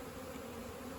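Native honeybees buzz around the comb at a rescued colony in Manacor, Mallorca, a close, steady, droning hum with no break.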